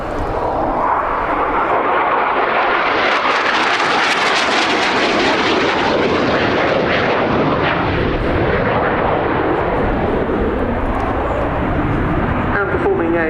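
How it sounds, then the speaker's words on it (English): An AV-8B Harrier II jet makes a fast fly past at an airshow at about 450 knots. Its engine roar is loud and continuous, swelling to a peak and then trailing away, with a commentator's voice mixed in. "the aircraft then coming in for its first fast fly past, around 450 knots the speed here"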